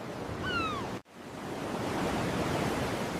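Ocean waves surging against rocks below a cliff, a steady loud wash of surf with a brief cry-like call near the start and a momentary drop to silence before the roar resumes.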